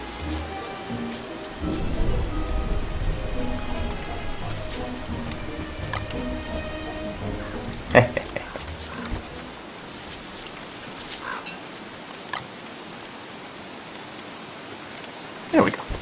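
Rain falling in the video game Don't Starve, a soft continuous hiss with scattered drips and small splashes, moderately quiet and steady over gentle background tones.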